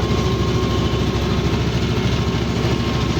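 T25 tractor engine running at a steady, loud, close drone while pulling a Bomet 2-25 plough through a field, a rough low throb with no pauses.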